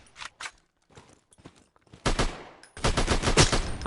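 Rapid bursts of gunfire from the Alvo VR shooter game, played on PSVR with a Move controller: two short volleys, a sparse patter of shots, then loud sustained automatic fire near the end.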